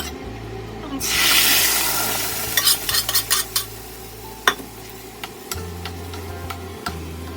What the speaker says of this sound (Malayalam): ഇനി ഇതൊന്ന് കടുക് വറുത്തെടുക്കണം